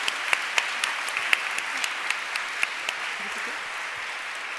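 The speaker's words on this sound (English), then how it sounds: "Let's give it an applause." Audience applause at a women-in-tech event, a steady wash of many hands clapping with a few sharper individual claps standing out, moderately loud and continuous with no talking.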